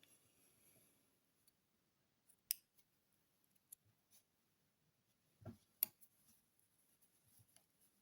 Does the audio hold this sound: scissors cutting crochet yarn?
yes